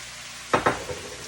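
Canned ackee, rinsed after coming out of the tin, drops into a hot frying pan in two quick soft thumps. A brief burst of sizzling follows, and a low frying hiss stays underneath.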